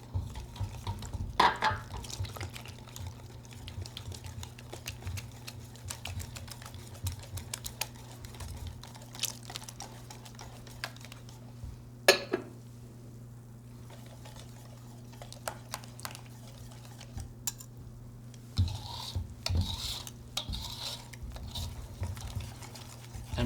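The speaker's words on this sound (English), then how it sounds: "And mix until smooth." Crêpe batter with milk and oil whisked in a bowl, light rapid clicking and tapping strokes in uneven bursts with short pauses, close and fairly quiet, no talking.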